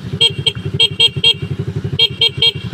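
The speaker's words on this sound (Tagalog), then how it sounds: "bumusina ka ng stock, which is ito." A stock horn on a Rusi 100/110 motorcycle beeps in short repeated bursts, several quick toots in clusters, over a steady idling engine putter.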